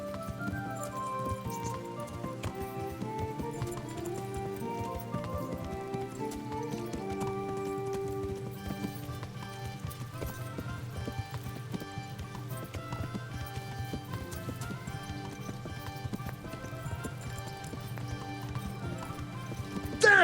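Horse hooves galloping in a steady clip-clop rhythm in the medieval video game Kingdom Come: Deliverance, running continuously under a dense orchestral music score.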